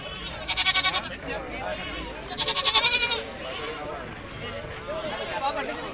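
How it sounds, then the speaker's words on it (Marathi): Native village goats bleat repeatedly at a busy Saturday goat market in rural Maharashtra, two loud bursts of bleating standing out over a steady crowd murmur with people talking nearby. "इकडे सुद्धा पट्टीने बांधलेले बघा गावरान शेळ्या पोकड"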